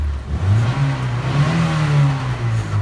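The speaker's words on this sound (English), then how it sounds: "we'll get this amazing Freight Rover started up" A Freight Rover (Leyland Sherpa) classic commercial van's engine catches and revs, a loud, close mid-pitched drone that rises and holds, then eases slightly, with no talking over it.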